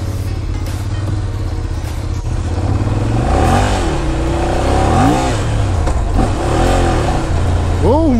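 A Ducati Monster 795 motorcycle engine idling with a low rumble, then revving up and down several times in rising and falling swoops, loud and close.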